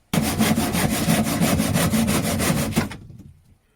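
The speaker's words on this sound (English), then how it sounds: "I'm going to cut 50 millimeter off this and force it up inside that tube" Saw cutting a tube to length for a DIY puddle sucker, a loud, close series of quick back-and-forth strokes in steady rhythm for nearly three seconds, then abrupt silence.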